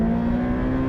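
Ferrari F8 Tributo pulling hard in third gear near 90 to 100 kph, with a loud, steady high-pitched engine drone that holds a sustained tone for the whole second, close and uninterrupted.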